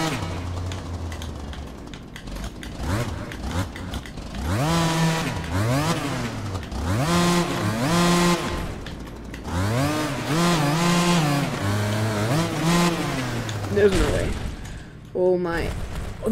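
Dirt bike engine in the MX Bikes racing game, revving hard in rising and falling sweeps that repeat through most of the stretch, loud and close, with a voice talking over it and a brief drop near the end.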